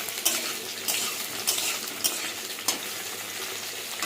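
Potatoes fry and sizzle steadily in a pan while a utensil stirs them, scraping the pan in about half a dozen short, regular strokes, close up and with no voices.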